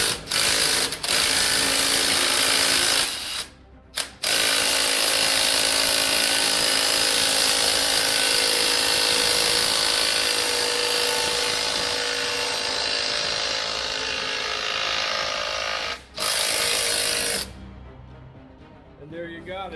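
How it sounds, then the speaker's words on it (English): A DeWalt power drill spins an engine rotating on an engine stand, giving a steady mechanical whir with ratcheting texture that runs almost continuously, broken by a few short pauses. "With my DeWalt, this thing is easy to spin over"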